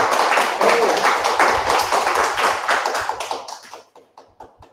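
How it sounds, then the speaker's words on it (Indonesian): Applause for the organizing committee at the close of an online seminar: dense, lively clapping for about three seconds, then thinning out into a few scattered final claps. "Tepuk tangan untuk panitia kita."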